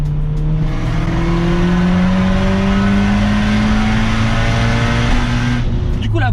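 Stage 3 Skoda Octavia with a non-original long-geared gearbox accelerating hard, a steady droning engine note climbing in pitch over several seconds, heard from inside the car with faint talk at the end.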